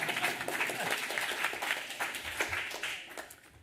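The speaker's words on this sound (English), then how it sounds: "You can clap." An audience at an academic panel gives a short round of clapping, soft and somewhat distant, fading out toward the end.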